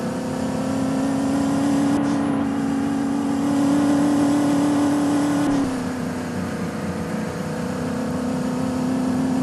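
Maruti Alto cars revving in a just-for-fun race give off a sustained, droning engine whine that holds steady, dips, then carries on loud and close, with no voices over it.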